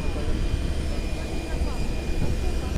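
Airplane cabin with passengers boarding before a flight to Tbilisi: a steady low engine and ventilation rumble with a faint high whine, continuous throughout, with muffled voices underneath.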